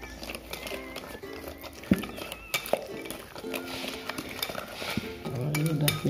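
A spoon stirs a thick dodol agar mixture in a pot, giving soft scraping and occasional sharp metallic clinks at an irregular, unhurried pace, with faint background sound.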